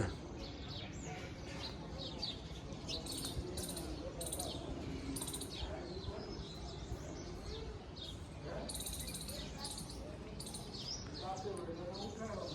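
Birds chirp and twitter busily around a farm in a bright, overlapping chorus of short calls, carried over a steady low rumble of background noise.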